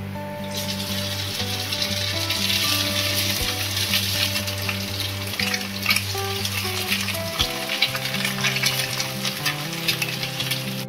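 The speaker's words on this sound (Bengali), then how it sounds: "সবকটা চিকেন আমার এইভাবে ভেজে নিয়েছি" Marinated chicken fries in hot oil with a loud, continuous sizzle close up, broken by occasional stirring clatter.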